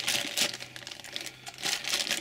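A plastic packaging bag holding a Sailor Moon wand toy crinkles in close, irregular bursts of rustling as it is handled, with no talking over it.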